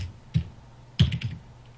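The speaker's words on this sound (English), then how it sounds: "I'm just typing something quickly." A handful of computer keyboard keys are pressed in short bursts, a single tap followed by a quick cluster of clacks, close and fairly quiet.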